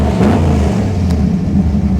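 An old car engine, which earlier idled with an occasional popping miss, revs steadily as the car begins to move off, a continuous low rumble close by with no talk over it.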